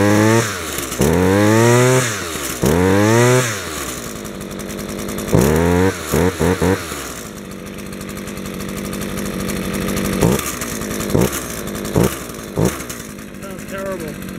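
A Husqvarna 323L string trimmer with a rusted, leaking fuel tank revs in several rough bursts, a loose part rattling inside, then drops to a sputtering idle with intermittent blips, close and loud.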